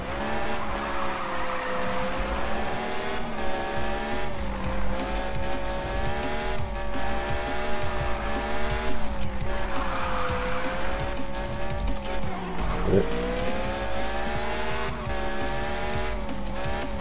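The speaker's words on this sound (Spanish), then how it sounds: "Vamos con un Fórmula 1, frena enseguida, acelera muy rápido." A Formula 1 car in a racing video game screams through rising and falling high-pitched engine revs as it brakes and accelerates hard, loud and continuous, with tire squeal mixed in.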